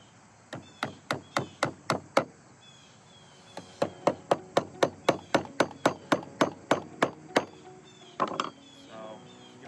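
Steady, evenly spaced hammer blows driving a wooden piece into place while building a wild bee nest, around twenty sharp knocks in two runs with a short pause between, close and crisp.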